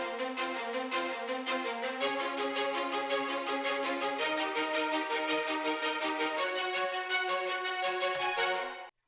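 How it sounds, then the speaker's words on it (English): A synthesized string section plays a sustained trailer-music stinger, starting on a note other than the root, in a rich, bright held chord that swells slightly, shifts pitch partway, then cuts off abruptly near the end, with no talking. "We have the strings here and I did start on another note than the root note and it sounds like this."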